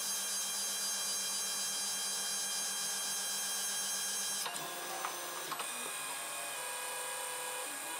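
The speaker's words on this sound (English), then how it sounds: "So it's just about to start, well, it's moving in, ready to actually start printing." A 3D printer moves its head into position before printing, giving a steady whirring motor hum with a brief shift in tone partway through, close and continuous with no talk.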